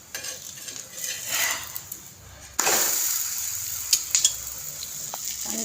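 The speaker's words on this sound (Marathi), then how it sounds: "बघा आता आपण पलटून घेणार आहोत त्याला." Fenugreek flatbread (dhapata) being flipped on a pan over low heat, with a soft clatter of a utensil against the pan and a faint sizzle underneath, quiet and close.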